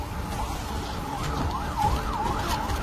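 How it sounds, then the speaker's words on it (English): An ambulance siren wails in Gaza amid bombardment, its rising and falling tone sweeping repeatedly over a steady background of traffic and street noise, moderately close and continuous. "An ambulance in Gaza full of medics and civilians rocked by Israeli bombardment."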